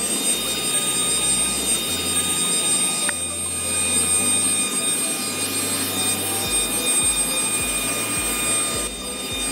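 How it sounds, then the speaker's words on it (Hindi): A car vacuum cleaner runs steadily and loudly throughout, a continuous whining motor roar with a shifting low hum as the nozzle moves, and no talking. "वैक्यूम ऑन करते हैं और ये इसका फिल्ट्रेशन सिस्टम है।"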